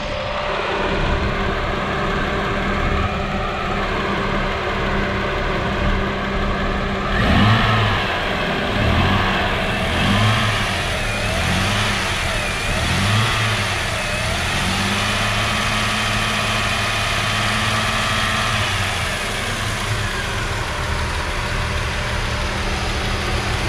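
A 2004 Jeep Grand Cherokee Laredo 4x4's 4-liter six-cylinder engine running steadily close by, with a low idle hum that swells in several revs partway through before settling back to idle.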